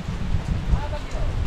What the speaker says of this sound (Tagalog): Malamig na panahon, umuulan.